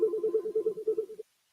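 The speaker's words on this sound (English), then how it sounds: "Excuse me, my phone is ringing." Phone ringing, a steady warbling electronic tone pulsing rapidly for just over a second, then cutting off into silence.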